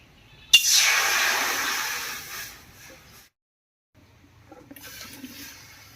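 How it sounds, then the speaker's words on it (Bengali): Water gushes loudly into a wok holding papaya and potato for boiling, a close rushing pour that tapers off over a couple of seconds, followed by a short pause and faint splashing. "এবার কড়াইয়ে জল দিয়ে পেঁপে আর আলুটা হালকা করে সেদ্ধ করে নেব।"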